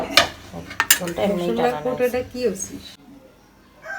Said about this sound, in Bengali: আমার শাশুড়ি এখন প্লেটে ভাত বেড়ে নিচ্ছে